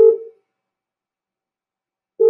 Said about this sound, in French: Ça sonne chez vous, Armel?